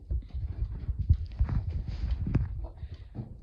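Uneven hoof thuds and shuffling from a horse moving on a hard floor inside a barn, close by and fairly soft.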